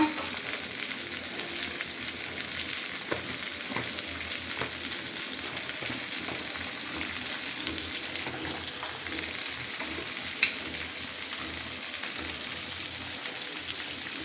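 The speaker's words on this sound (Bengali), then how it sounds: "এই যে ছোলারে ভাজবো এখন" Chickpeas frying with spices and salt in a pan, a steady crackling sizzle close by with occasional stirring scrapes, continuous throughout.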